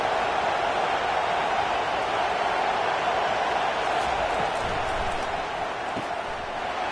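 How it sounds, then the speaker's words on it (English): A large stadium crowd roars at a football game during a red-zone defensive stand, a dense, loud, continuous wash of cheering and noise that swells slightly then eases. "here comes the noise. This crowd is trying to inspire this defense to make a big red zone stop"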